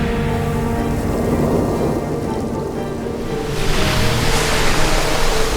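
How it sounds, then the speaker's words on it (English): A storm sound effect of thunder and waves striking a boat, loud continuous rumbling wash that swells stronger toward the end, heard alone without voices. "Waves struck hard from the side, tilting the boat sharply, forcing him off his seat and onto the floor of the boat"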